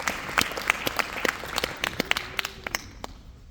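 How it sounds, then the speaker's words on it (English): A small audience at a senior school meeting claps for a newly introduced coach, with sparse, uneven handclaps that rise briefly and then thin out over a few seconds. "So let's clap it up for her."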